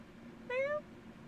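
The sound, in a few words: cat meowing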